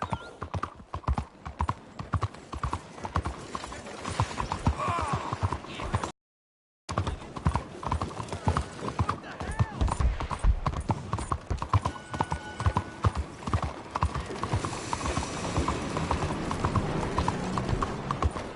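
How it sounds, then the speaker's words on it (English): A horse walks with steady clip-clop hoofbeats on a path in the Red Dead Redemption 2 game world, close and rhythmic, continuing under faint ambient sound with a brief dropout partway. "That little horse you got yourself."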